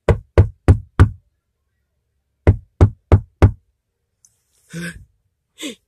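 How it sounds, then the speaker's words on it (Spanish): Knocks on a door in two quick sets of four sharp raps separated by a pause, loud and close, followed by a couple of faint breathy vocal sounds. "pues vamos a tocar la puerta"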